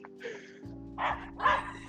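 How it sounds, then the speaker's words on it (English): A dog barks a few times at a distance, high yipping calls rising over a steady low hum and faint background noise, with nobody speaking. "Are you hearing that dog right now?"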